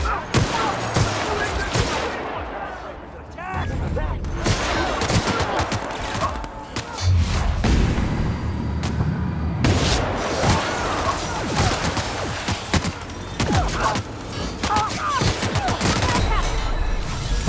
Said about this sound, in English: We'll go with the shrink ray.